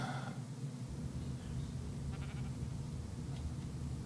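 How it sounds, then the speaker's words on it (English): A sheep in Ark Survival Ascended, on the Ragnarok map, bleats softly over a constant low game ambience, with no talking. "Let's see where our sheep is."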